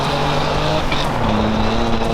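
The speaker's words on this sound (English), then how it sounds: "This thing just did its first donut of its entire life" A supercharged car spinning its first donut gives a loud, close engine drone whose pitch climbs and shifts as it revs through the turn, with no talking.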